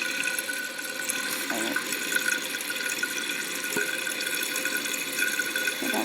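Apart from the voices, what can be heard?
toilet tank flushing and refilling with water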